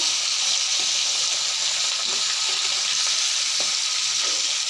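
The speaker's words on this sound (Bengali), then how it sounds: "মাছগুলো একটু হালকা হালকা ভাজিয়ে নেব।" Dried chondana fish fries lightly in oil in a pan, giving a steady, bright sizzle that stays constant and close throughout, with faint stirring clicks and no talking.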